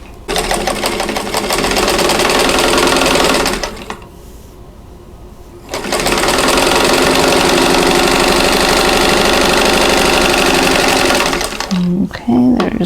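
A sewing machine stitching quilt pieces runs in a loud, steady mechanical whir, pauses briefly, then stitches again for a long stretch before stopping, with a little handling noise at the end.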